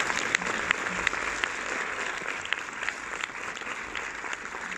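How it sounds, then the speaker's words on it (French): A cinema audience at a film premiere in Orléans claps steadily, a soft, slightly distant wash of applause with a few sharper claps poking through. "je pense qu'on peut applaudir vraiment bien fort l'équipe"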